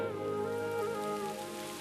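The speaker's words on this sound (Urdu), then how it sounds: "اب بارش ہونا شروع ہو گئی ہے," Rain begins falling and spreads into a steady, even hiss of drops striking a surface, with a sustained tonal drone underneath and no voices.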